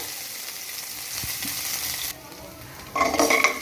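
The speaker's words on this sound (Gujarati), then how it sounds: "હવે આને આપણે સરસ સાંતળી લઈએ આપણે ગેસની ફ્લેમ ધીમી જ રાખવાની છે" Crushed ginger and green chilies sautéing in a pan over a low gas flame, a gentle continuous sizzle that drops briefly before a louder burst of frying and stirring near the end, close by with no talking.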